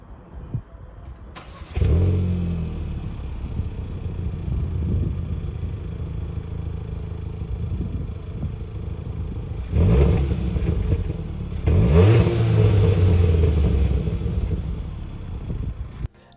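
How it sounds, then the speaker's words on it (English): A Kia Ceed GT with twin tip exhausts starting up and idling, then two sharp revs blipping louder from near the rear, the engine note rising and falling back each time. "these twin tip exhausts, which I'll let you hear what they sound like now."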